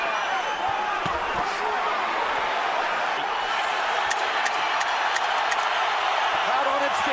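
Boxing arena crowd during Canelo Alvarez vs Gennady Golovkin, a broad steady roar with sharp bursts of cheering and claps, heavy talk running over it.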